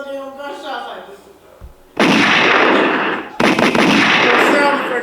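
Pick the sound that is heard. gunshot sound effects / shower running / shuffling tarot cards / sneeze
gunshot sound effects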